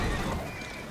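A horse pulling a carriage on the streets of 1800s London in a video game whinnies loudly and close, with clip-clopping hooves underneath, in one brief burst.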